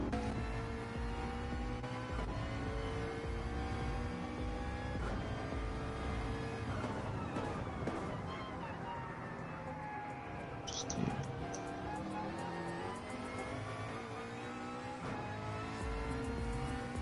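Several 600-horsepower race car engines rev and accelerate out of the pits at Mount Panorama in a racing game, loud and continuous with shifting pitches and a brief tire squeal, with faint voices underneath.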